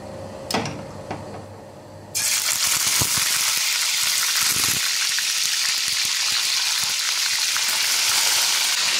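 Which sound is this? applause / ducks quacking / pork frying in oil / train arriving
pork frying in oil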